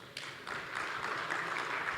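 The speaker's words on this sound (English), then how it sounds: "Can we give him another round of applause, please?" Applause for Professor Chris at the Lagos Business School family business conference, a moderately distant crowd clapping that swells after a half second and holds steady.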